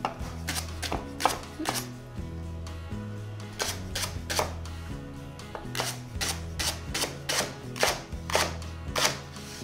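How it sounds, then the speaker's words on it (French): Rapid knife chopping a leek on a cutting board, sharp repeated strikes in quick bursts over steady background music. "Donc, je vais couper le poireau, Alex"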